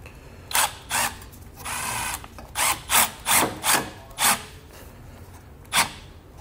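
An 8mm socket tightens a band clamp while a trailer brake controller mount is fitted to a 2018 Chevrolet, giving about eight short ratcheting and rubbing bursts in an uneven rhythm, close and fairly loud, with one longer grinding turn near the start.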